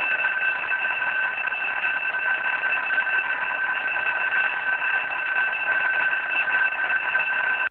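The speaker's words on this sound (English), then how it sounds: "The fourth sound is the fire alarm." A building fire alarm at the Sellafield site sounds as a continuous, steady electronic tone, unbroken and even in level for several seconds, with no voices over it.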